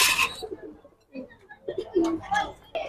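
Pigeons cooing close by in several soft, throaty bursts, mixed with faint background voices and rustling.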